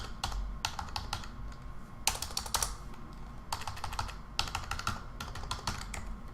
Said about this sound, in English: So I would type in my name, my credit card number,